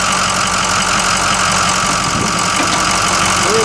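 A plow truck's engine idles steadily while warming up so the transmission fluid heats, giving a loud, close, continuous rumble with an even mechanical hum and no talking.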